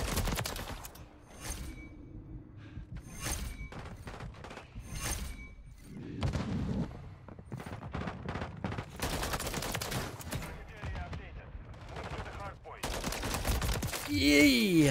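Gunfire in Call of Duty MW3, repeated bursts of rapid automatic shots and single cracks in clusters, loud and close, with a player talking intermittently between volleys.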